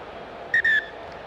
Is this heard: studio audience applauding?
no